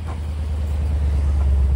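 A powerful Bavarian car rumbles past on the road, a deep, steady low engine drone building slightly in loudness over a short moment, with no talk.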